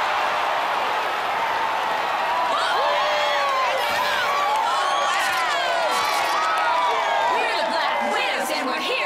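A crowd cheers and whoops steadily throughout at a cheerleading competition in an animated show, a loud, continuous wash of voices with rising shouts layered on top.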